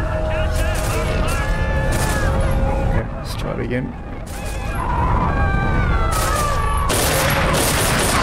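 Gunfire and explosions in the World War II stealth game Velvet Assassin, a dense barrage of bursts and crashing booms with a short lull midway, mixed under game music and voices.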